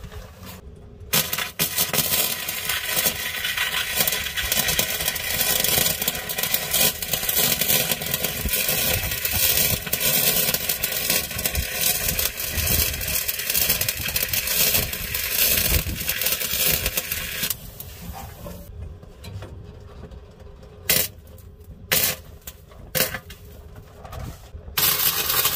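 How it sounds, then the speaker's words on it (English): Welding on a steel chain rack inside a hotshot flatbed trailer toolbox gives a continuous harsh crackle and sizzle, loud and close for most of the stretch, then breaks into short bursts near the end. "now I'm just gonna be welding this totally blind"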